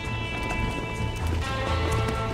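Horse hooves galloping in Red Dead Redemption, a quick steady clip-clop rhythm under a layer of game music and ambience, moderately loud and continuous.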